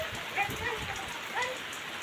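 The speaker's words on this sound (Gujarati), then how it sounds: "વરસાદ ટાણે 2 ફાર્મ વરહી રહ્યો આપણે જોવો તમે" Steady rain falls on a farm in a continuous hiss of drops, with a couple of faint bird calls in the background.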